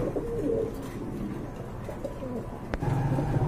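Fancy pigeons kept as a pair, cooing softly in repeated low throaty phrases, fairly close over a faint background hum, no talking.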